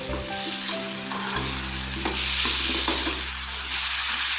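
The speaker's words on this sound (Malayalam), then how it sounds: "ഈ തക്കാളിയും കൂടെ ചേർത്തിട്ട് ജസ്റ്റ് ഒരു 2 സെക്കൻഡ് വഴറ്റുക" Tomatoes sauté in a pan for spinach sambar, giving a steady close sizzle with stirring scrapes and no talk.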